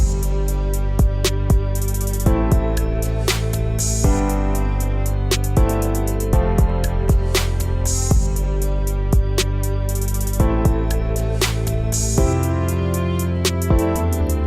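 A full hip-hop style beat made for a track, with steady programmed drums, sharp regular hits and a simple sustained bass line underneath, playing loud and continuous with no talking.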